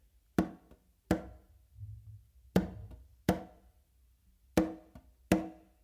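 Sharp, close conga slaps in pairs, each followed by a quick soft ghost tap, repeated with short gaps; no voices.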